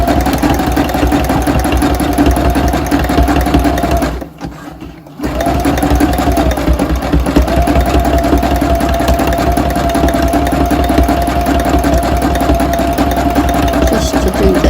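A vintage sewing machine zigzag-stitches the edges of fabric, its motor humming loud and steady nearby, with a rapid needle chatter and one brief pause about a third of the way in.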